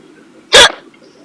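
One loud, abrupt hiccup bursts out inside a car, a short sharp gulp standing alone against a quiet cabin hum.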